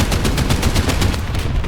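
CM52 Spade self-propelled anti-aircraft gun in War Thunder firing a rapid automatic burst of about a dozen evenly spaced heavy thumps, loud and close, over engine rumble with no speech.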